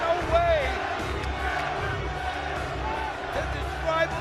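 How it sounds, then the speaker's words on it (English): A wrestling arena crowd yells and roars for Sabu after a brutal barbed wire match, a broad continuous din of many voices with a commentator talking over it. "as the crowd yelling Sabu has won"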